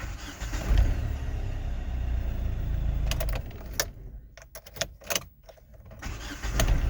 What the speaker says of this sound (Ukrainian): Перетримуємо, зажимаємо, дивимося, як він заводиться.